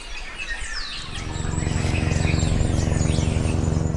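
Several birds chirp and trill close by, with quick overlapping calls over a low steady hum that grows louder partway through.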